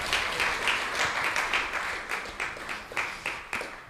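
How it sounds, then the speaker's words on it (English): An audience at a Hare Krishna Sunday feast applauds speaker Kanteya Prabhu, clapping that rises and falls in soft surges and thins toward the end, with a few distinct claps standing out. "Let's give Kanteya Prabhu a big round of applause."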